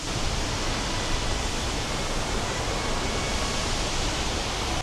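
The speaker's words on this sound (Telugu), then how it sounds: "జస్ట్ ఇలా మెట్ల మించి రాగానే ఈ చెట్ల పక్క నుంచి ఓపెన్ అవుతుంది వాటర్ ఫాల్." The Nung Nung waterfall in Ubud, Bali, falls from a great height with a steady, dense, roaring wash of water, loud and unbroken throughout, with no voices over it.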